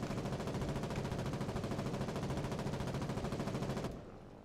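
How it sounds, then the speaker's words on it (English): An aircraft's machine guns fire a sustained strafing run in a multiplayer video game, a dense, continuous rattle of rapid shots that stops abruptly near the end, with no talking. "Coming in for our strafing run."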